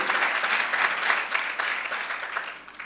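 Congregation applauding steadily in church during a service, welcoming a visiting delegation from Yopougon; continuous loud clapping from many hands with no pauses.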